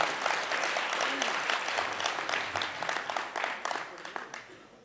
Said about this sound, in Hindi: हमें भी तालियों की गड़गड़ाहट अच्छी लगती है।